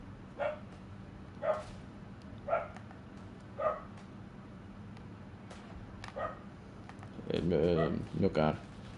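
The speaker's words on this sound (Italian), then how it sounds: "C'è qualcuno che abbaia." Dog barking in the WWI shooter Isonzo: about five short, evenly spaced barks at mid distance over a steady low battlefield rumble, followed by a louder burst of noise near the end.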